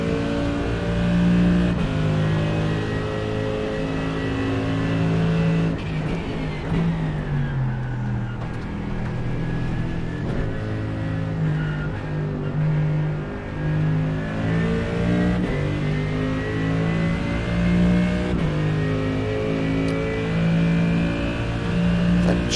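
Race car engine in the Suzuka 10 Hours racing game, revving loud and steady with shifting pitch throughout, gears rising and falling as it drives on track, no talk over it.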